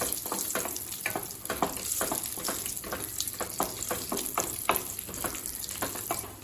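Cashews and raisins frying in a pan for rava laddu, a dense continuous sizzle of hot fat with crackling bursts and occasional stirring scrapes, close and loud throughout.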